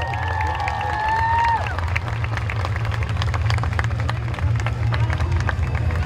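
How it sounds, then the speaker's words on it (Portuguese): Outdoor crowd at an air show with the Esquadrilha da Fumaça aerobatic team in Pinhais, Paraná, giving light, scattered clapping and cheering over a low steady rumble, with a brief whistle-like tone early on. "Quem gostou pode aplaudir o número 7."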